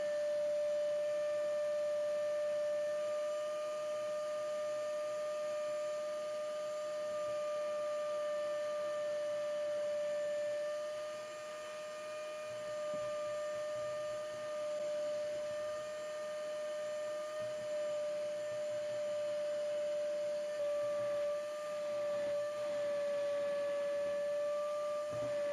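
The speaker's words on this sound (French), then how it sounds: "ce qu'on va faire, c'est tout simplement aspirer pour supprimer tout ça" A vacuum cleaner sucks debris out of a car engine compartment, giving a steady, continuous whining drone with a faint hiss that holds for the whole stretch, with no talking.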